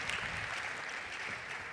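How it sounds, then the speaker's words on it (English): Audience applause at a startup pitch competition in a large conference hall, a steady wash of many hands clapping throughout at moderate level, with no clear voices over it. "A big applause for him, please."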